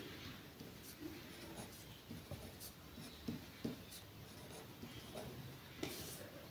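Pen scratching on paper while a division problem with powers of nine is worked out, soft steady strokes with a few sharper taps, close and quiet with no talk over it.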